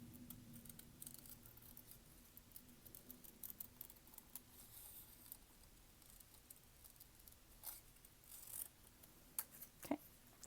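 Scissors snip through paper for an Earth Day dragon craft, soft irregular cutting and rustling close by, slow and quiet with a few sharper clicks near the end and no talking.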